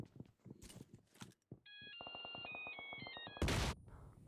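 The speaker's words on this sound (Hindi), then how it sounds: "मतलब यार क्या ही रिंगटोन लगा रखे इस डायनामाइट में।" A bright electronic ringtone from dynamite in PUBG on the Karakin map, with steady stacked tones and a pulsing beat, flanked by game explosion and clatter effects, ending in a loud burst.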